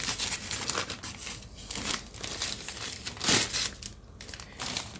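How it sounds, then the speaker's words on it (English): A new camera is unboxed and lifted from its packaging, with continuous crinkling and rustling of wrapping and plastic, close and moderately loud, and a sharper tearing crackle partway through. "let's take the camera out of its packaging"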